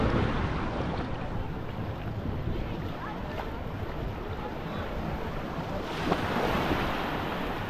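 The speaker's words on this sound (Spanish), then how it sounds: "cómo está el mar hoy. Está precioso." Ocean surf at the beach in Playa del Carmen washes in as a broad, continuous roar with wind buffeting the microphone, a swell rising toward the end, and no voices.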